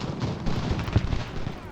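Artillery and musket fire in the battle game Ultimate General: Revolution, a muffled, continuous crackle of distant volleys and low booms, fairly faint and rumbling.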